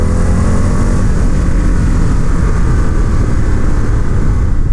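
An Indian FTR1200 S motorcycle engine runs with a steady, dense low rumble, close and loud throughout with no pauses and no voices.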